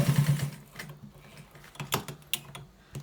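A sewing machine stitches white trouser fabric in a short burst at the start, then gives way to quiet, irregular clicks and taps of handling close by.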